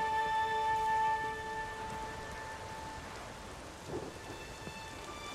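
A thunderstorm in The Witcher 3 brings rain and lightning: a dense hiss of steady rainfall with low thunder rumbling beneath, sustained tones hanging over it early on, and a brief swell near the end.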